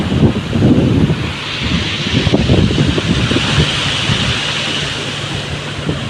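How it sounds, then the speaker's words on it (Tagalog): Sea waves break one after another on a Philippine shore where people are fishing, a steady rushing roar buffeted by heavy wind across the microphone. "Ay, sunod-sunod yung alon."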